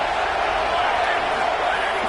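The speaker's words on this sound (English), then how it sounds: "this crowd is turning it up a notch" A stadium crowd in a Madden and NCAA football video game roars steadily on second down, a dense, loud, continuous wash of cheering with no clear pauses, and a commentator's voice likely mixed in.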